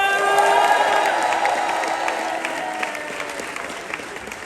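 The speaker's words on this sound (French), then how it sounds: "maximum d'applaudissements pour Edouard" A theatre audience at a comedy show at the Casino de Paris bursts into loud applause with cheers and whoops for Edouard, the clapping swelling at first and then gradually fading over a few seconds.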